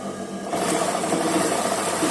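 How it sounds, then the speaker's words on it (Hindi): A sewing machine starts up and runs steadily while stitching a frock, a close, even mechanical whir following a brief quiet moment. "तो मैं यहाँ से सिलाई शुरू करूंगी"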